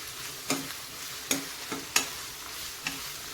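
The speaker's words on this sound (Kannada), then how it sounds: "ಶುಂಠಿ ಬೆಳ್ಳುಳ್ಳಿ ಪೇಸ್ಟು ಇದು ಕೂಡ ಎಣ್ಣೆಯಲ್ಲಿ ಚೆನ್ನಾಗಿ ಫ್ರೈ ಮಾಡ್ಕೊಂಡು" Ginger garlic paste fries in oil for fried rice, giving a soft continuous sizzle broken by four quick spoon scrapes or clacks against the pan; no voices.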